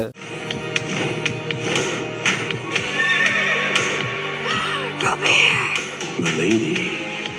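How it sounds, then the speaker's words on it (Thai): A horse galloping and neighing in a scene from the film Turning Red: loud, close hoofbeats in a quick rolling clip-clop, with shrill whinnies rising over them partway through. "เธอเห็นโรแบร์ขี่ม้ามาหาเธอ"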